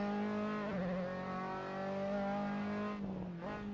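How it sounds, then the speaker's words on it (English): A Formula 3 race car in the Assetto Corsa racing game, on the Silverstone circuit, holds a steady high engine drone, then gives a quick throttle blip near the end, alone and loud. "Blipping the throttle, taking the apex"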